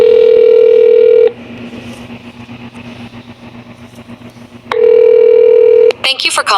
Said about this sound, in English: So now we have to call this number.